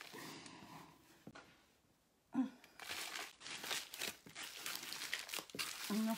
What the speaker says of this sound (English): What I'm going to do is I'm going to take this tin foil.